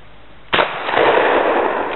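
A single loud gunshot cracks out close by at an outdoor shooting session with a friend, aimed at a Coke can target, followed by a sustained noisy rush and echo.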